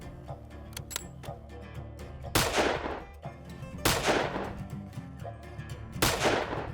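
Three loud rifle gunshots ring out at about one-and-a-half-second intervals during target practice for hunting in New Zealand's high country, each a sharp crack with a decaying echo over low background rumble.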